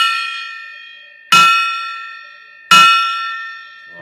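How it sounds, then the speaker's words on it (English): The Liberty Bell struck twice, each loud, clear metallic strike followed by a long ringing decay. "plus the ringing of the Liberty Bell"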